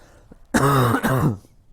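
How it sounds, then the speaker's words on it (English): A single harsh throat-clearing cough, close and loud, in two quick rasping bursts. "I got the cough still"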